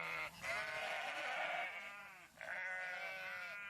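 Goats and sheep graze on a hillside farm, bleating in long wavering calls, several overlapping, fairly close, with a brief pause between.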